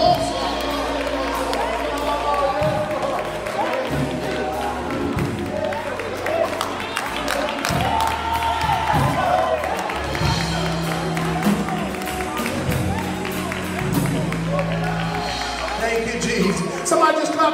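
A church congregation at a Wednesday worship service shouts praise and claps, a loud sustained crowd roar of voices and cheering with clapping and music-like tones, spread across the whole stretch.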